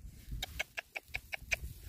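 A chicken clucking near eggs under a bamboo tree, repeated short clucks in a steady rhythm, about seven in under two seconds, close and clear over low background rumble.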